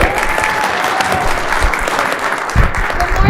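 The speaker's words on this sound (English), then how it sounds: "give a round of applause to Dalene" An audience at a mortgage business technology event gives a round of applause for Dalene: dense, loud, continuous clapping from a crowd, with a few heavier claps near the end.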